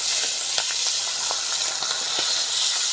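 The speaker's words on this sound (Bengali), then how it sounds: "এবার এক এক করে মাছগুলি ছেড়ে দেবো" Bata fish slid piece by piece into hot mustard oil hiss and sizzle in a steady, loud, close-up wash of frying noise with small crackling pops scattered throughout.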